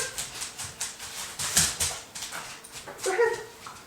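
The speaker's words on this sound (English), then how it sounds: "now you have to listen to the sounds of them licking" Several dogs lapping Greek yogurt at close range, a busy run of wet licks and smacking sounds with a brief whimper mixed in.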